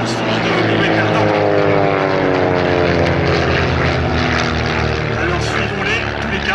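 Propeller aircraft engines roar loud and steady at the Cambrai air meeting, with sustained droning tones that shift slowly in pitch as planes fly a display, continuous throughout.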